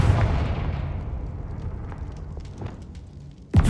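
The Confringo spell detonates in Hogwarts Legacy, a loud booming blast that fades over about three seconds into scattered crackling debris, then a second sharp burst hits at the very end.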